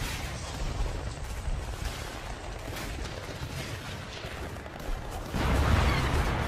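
Sustained rumbling gunfire and distant blasts roll through a wooded setting in a short film as shooters fire on a target, a dense continuous barrage that swells louder near the end.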